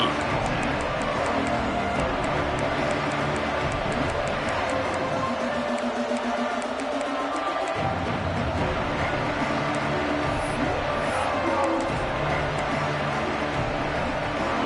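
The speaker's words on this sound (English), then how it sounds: "This crowd ready to make its presence known." Stadium crowd at a college football game against Iowa State, a loud continuous roar filling the whole stretch, with a commentator talking over it.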